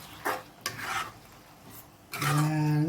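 A spatula scrapes and stirs chicken pieces and onion pieces through a frying pan in short rasping strokes, three or four separate scrapes at close range, with a soft hiss of frying beneath and a tonal clatter at the end.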